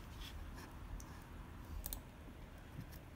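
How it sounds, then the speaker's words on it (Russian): Rapid clicking of keys on a computer keyboard being tested, a steady stream of soft taps with a few sharper clacks over a constant background hum. "Проверка клавиатуры."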